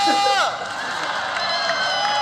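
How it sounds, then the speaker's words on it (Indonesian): Esports crowd at a Snapdragon Mobile Challenge final between Bigetron Alpha and Onic cheers and claps loudly in a dense roar, with an announcer's voice over the top. "Jadi untuk Biget Troopers pada tepuk tangannya."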